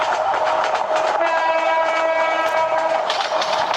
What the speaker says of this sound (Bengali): একদম সেম যে ট্রেনের সাউন্ড হয়